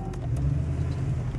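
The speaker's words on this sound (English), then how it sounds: "Going to take you for a drive in a 1968 Rally Sport Camaro" A 1968 Chevrolet Camaro Rally Sport, all original and unrestored, drones with a steady low engine rumble from inside the car while driving, with no talk over it.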